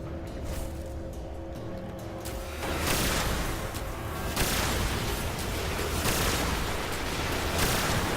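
Gunfire and explosions during a strike in the video game Destiny on PS4, a continuous rattling barrage of shots with repeated sharp bursts and booming blasts layered throughout.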